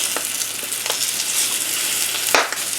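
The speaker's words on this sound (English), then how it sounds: "We'll flip it over and let it cook on that side." Rabbit liver sizzles and crackles steadily in a hot frying pan, a dense close hiss with a few sharper pops and spatters along the way.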